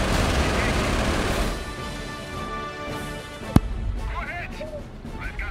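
Repeated cannon fire from an M3 37 mm gun in a video game against a scout car, a dense rumbling barrage with one sharp, loud shot standing out partway through.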